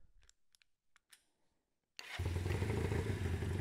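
A land speed motorcycle engine fires up after a few light clicks and clatters, then settles into a loud, rough, throbbing idle with a low rumble, close by; no talking.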